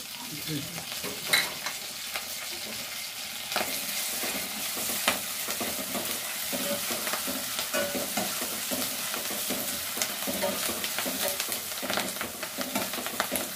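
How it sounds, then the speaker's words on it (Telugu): Curry leaves sizzle in hot oil for a sweet corn and carrot dish, a steady, close crackle with scraping and clinking from stirring throughout and no talking. "కొద్దిగా కరివేపాకు వేయాలి."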